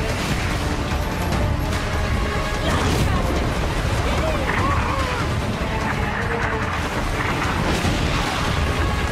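Loud, chaotic booms and crashes of cannon fire and explosions roll continuously in a video game naval battle, with a dense rumbling battle din throughout.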